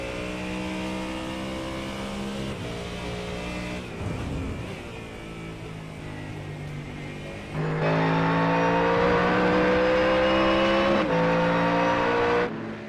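Aerokinetics 367 GT3 race car at Laguna Seca, engine held at high revs with sustained harmonic tones that dip and climb through shifts, then surge louder and brighter before cutting off near the end.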